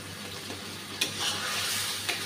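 Turmeric-spiced potol (pointed gourd) curry stirred in a pan as it cooks down, a steady soft sizzle with scraping stirs and a couple of sharp utensil knocks against the pan.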